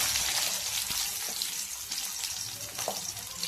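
Garlic and onion sautéing in a pan, a soft continuous sizzle and crackle with occasional stirring clicks, close and fairly quiet.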